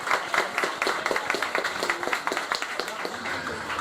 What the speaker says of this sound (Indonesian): Beri tepuk tangan untuk diri sendiri.